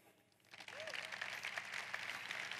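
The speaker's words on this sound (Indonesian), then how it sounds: "Sekali lagi kita beri tepuk tangan di depan ini." A seminar audience applauds the front rows, the clapping swelling in after a quiet start and holding moderately loud, with a brief voice or whistle-like sound early on.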